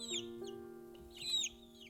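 Young chicks in an indoor brooder give a few close, high peeping chirps in short bursts over a steady low hum, with quiet gaps between calls.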